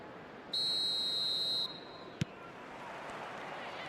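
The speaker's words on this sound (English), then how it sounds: "There's the whistle." A referee's whistle in an eFootball video game match gives one bright, sustained blast of about a second, loud over a steady stadium crowd roar, followed by a short sharp knock.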